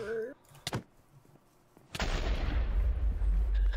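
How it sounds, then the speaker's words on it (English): An explosion in the Minecraft game Mario Party, a sudden loud burst that rolls into a sustained rumble and crackle for nearly two seconds, after a brief sharp click and a faint earlier blip. "Okay, now I've exploded."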